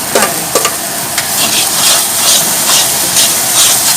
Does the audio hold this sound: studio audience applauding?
no